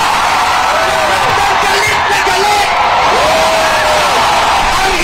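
Large, dense crowd shouting and cheering in anger at a political rally against the president, a loud sustained roar with whoops and yells rising through it.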